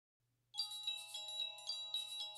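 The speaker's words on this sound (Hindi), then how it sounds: "अम्मा का फोन आ गया।" A phone ringtone chimes up suddenly and plays a bright, repeating electronic melody, fairly loud and close, with nothing else audible.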